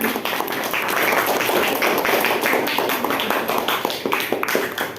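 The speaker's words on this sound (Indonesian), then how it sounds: "beri tepuk tangan dari kelompok 3" A classroom of junior high students applauds after a group presentation. The clapping is dense, continuous and close, filling the room for several seconds.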